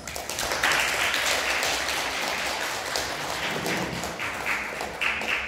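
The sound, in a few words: audience applause for the opposition speaker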